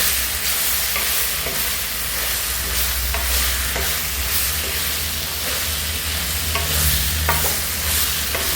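Chicken coated in pepper masala stir-fries in oil over a slow flame, giving a steady close sizzle with scattered scraping stirs of a spatula throughout, no talking.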